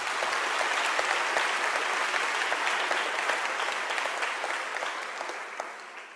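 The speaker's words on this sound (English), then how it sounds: "I think we can give them a nice round of applause." A university audience applauds a panel after a talk by former president Thabo Mbeki, with steady, full-room clapping over six seconds that thins slightly toward the end.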